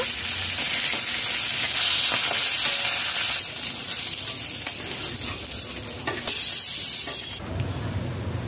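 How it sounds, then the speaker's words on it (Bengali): Fish fry in oil in a wok with a steady, loud, close sizzle, overlaid by intermittent stirring scrapes and crackles. "5 মিনিট মাছ ভেজে নিয়েছি, ভাজা হয়ে গেছে, তুলে নেব।"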